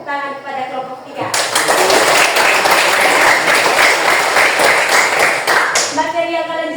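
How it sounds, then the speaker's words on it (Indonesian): Group applause breaks out in a classroom for a presenting team, dense clapping lasting about five seconds at high loudness, framed by a speaking voice before and after. "Saya harap teman-teman untuk memberikan tepuk tangan kepada kelompok 3."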